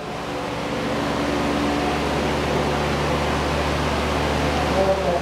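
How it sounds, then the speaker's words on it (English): A dehumidifier drawing moisture out of a house runs with a steady, even mechanical hum and broadband airflow noise, close and continuous throughout, with a low motor drone beneath it. "They have another machine here. Take the humidity from the house."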